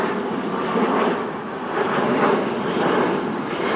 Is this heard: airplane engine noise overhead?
yes